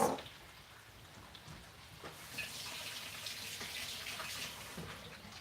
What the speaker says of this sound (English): I'm gonna rinse the egg stuff off my fingers